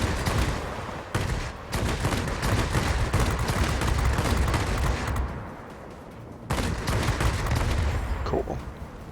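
Rapid aircraft machine gun fire in World of Warplanes, where a J4M tier VII multi-role fighter shoots at an enemy plane. Loud, dense bursts run almost continuously, with a short break near the start and a longer lull before firing resumes.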